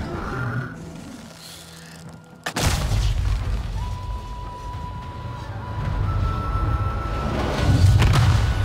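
An explosion in a video game lands as a sudden heavy boom after a quiet stretch, followed by a sustained loud rumble and debris noise, with a steady tone and a later thump near the end.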